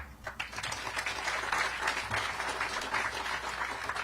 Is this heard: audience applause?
yes